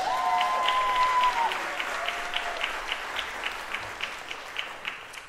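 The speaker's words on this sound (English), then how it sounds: "you can clap for the ladies." Audience applause at a jazz ensemble concert, a steady wash of many hands clapping that swells early and then slowly thins, with a few louder individual claps standing out near the end.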